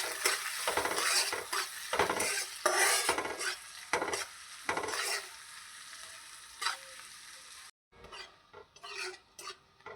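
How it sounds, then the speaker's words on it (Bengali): Onions frying in a pan with a pinch of turmeric, soft sizzling under repeated loud stirring scrapes of a spatula, with a short silence followed by a few more quieter scrapes. "পেঁয়াজগুলো ভাজা ভাজা হয়ে গেছে"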